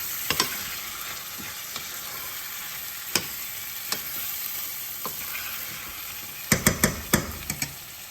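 Northern beans being stirred together in a cooking pot for a beef stew, with scraping spoon strokes and a cluster of sharper clinks near the end over a steady background hiss.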